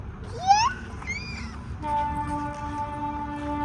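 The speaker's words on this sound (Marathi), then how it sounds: "ट्रेन आली बघ." A train passes near a village field path, a rising squeal or horn-like tone early on giving way to a steady sustained horn drone over low rumble, with no talking.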